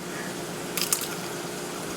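One quick, crisp crunch as a bite is taken from pistachio baklava with a soft, syrupy base, a short faint burst over quiet room hiss.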